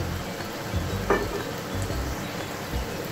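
Spiced masala with about three spoonfuls of tomato sauce cooks down in a pan for a mutton dal, with a steady low sizzle and occasional soft stirring thumps and scrapes.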